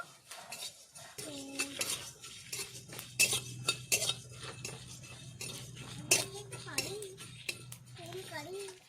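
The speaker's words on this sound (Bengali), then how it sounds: "শুকনো খোলায় গোটা মশলা ভেজে নিয়েছি" Whole cumin, fennel, coriander seeds, peppercorns and broken dried red chillies for vegetable chops are dry-roasted and stirred in a pan, with a utensil scraping and clinking against the metal in quick, uneven strokes while someone talks nearby.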